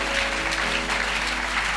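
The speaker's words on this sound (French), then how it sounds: "Put your hands together for the Lord." Church congregation applauding, dense steady clapping from many hands throughout, loud and close with a constant low hum underneath.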